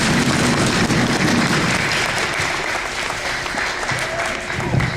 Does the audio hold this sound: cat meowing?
no